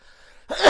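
A single sneeze bursts out after a quiet pause, loud and close, with a sharp breathy onset and a noisy broadband blast.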